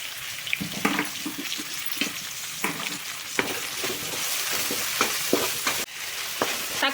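Tomatoes sauté in a pan for a chicken gravy, a steady close sizzle broken by repeated scraping stirs of a spoon.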